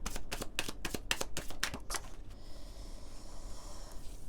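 A deck of advice cards for a card reading is shuffled by hand: a quick run of crisp riffling flutters close by, then the shuffling settles into a soft, faint rustle with no voices.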